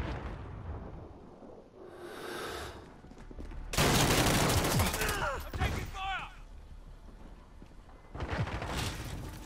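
Gunfire in the online shooter Call of Duty: Modern Warfare during a hardcore Headquarters match, with loud bursts of automatic fire and blasts coming in clustered volleys that alternate with quieter stretches, some game voice chatter mixed in.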